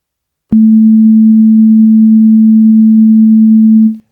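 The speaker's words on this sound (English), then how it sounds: "Now when I play the sine wave, you can hear there's a bit of a bit reduced quality to it." A single steady FM synthesizer sine tone with waveform interpolation disabled, loud and close, holding one low pitch for about three seconds with a faint buzzy edge, then stopping.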